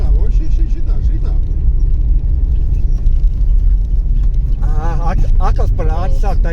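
A car drives along steadily with a low, continuous engine and road rumble from inside the cabin, while people in the car talk over the noise.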